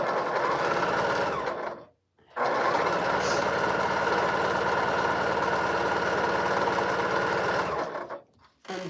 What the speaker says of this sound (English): I'm just going to sew